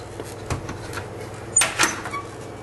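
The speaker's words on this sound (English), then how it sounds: "Let's open up the Easy Bake Oven and see what we got here" An Easy Bake Oven used to cure Teflon moly paint on Colt 1911 .45 ACP pistol parts is opened: a soft click, then a louder clatter and thump of the small door, close and alone in a quiet room.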